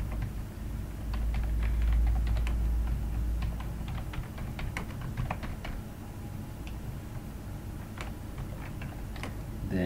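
Quick, light keystrokes on a computer keyboard tap out a business name in irregular bursts over a low background hum, with a brief rumble early on.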